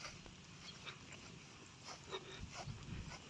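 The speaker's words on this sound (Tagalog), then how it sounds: "Sumasalubong na yung mga aso ni Tatay doon na ito." Dogs at a rural home come out to greet arriving visitors, giving faint, distant whimpers and yips over soft outdoor background noise.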